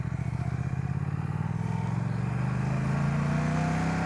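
A motorcycle engine runs steadily with a low, rumbling drone, its pitch slowly climbing as it revs up, loud and close with no voices.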